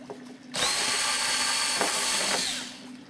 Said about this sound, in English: I'm going to drill the second hole.